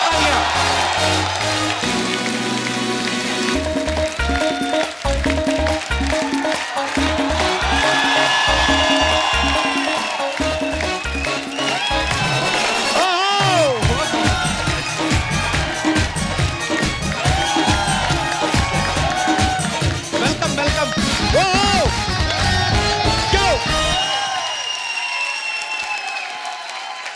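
Studio audience applause and cheering greets actress Shilpa Shetty Kundra and actor Paresh Rawal on a Hindi comedy talk show, a loud sustained roar of clapping with whoops and music underneath, cutting off abruptly near the end.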